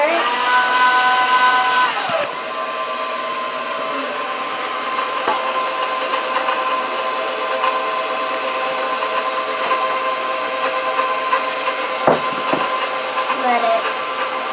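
An electric mixer whirs loudly and steadily while sugar is gradually beaten into cream cheese pound cake batter. Its pitch dips slightly early on, then it keeps running with faint clatter from the bowl.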